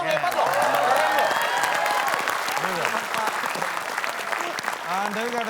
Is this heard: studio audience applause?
yes